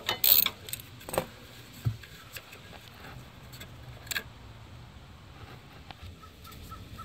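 A socket wrench, 8mm or 5/16, loosens heat shield bolts under a Dodge Charger during stabilizer link work, giving sparse, quiet ratcheting clicks and mechanical ticks with no talking.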